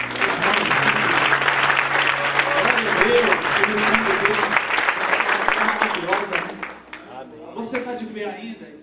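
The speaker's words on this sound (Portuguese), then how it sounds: "Uma salva de palmas para isso." A church congregation breaks into loud, sustained applause after the worship team, many hands clapping under a voice before thinning and fading out, with a few words spoken at the tail.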